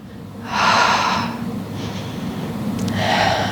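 Deep, audible breaths accompany Pilates alternating toe taps from a tabletop position: a long, breathy inhale, a quieter pause, then another strong rush of air, close and clear with no talking.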